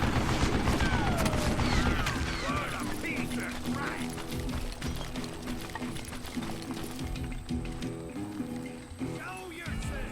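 A mounted gun in the western shooter Call of Juarez: Gunslinger fires at an old man in a fast, dense volley of sharp reports, with talk over the shooting.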